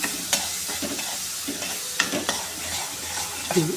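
Pulp sizzles in a frying pan for a taro-root curry while a ladle stirs it, giving a soft crackling hiss broken by a few sharp scraping knocks. No voices are heard.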